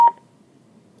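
A single short DTMF keypad tone from an Avaya 1416 IP Office desk phone, a clean bright beep lasting about a tenth of a second, followed by quiet line hiss.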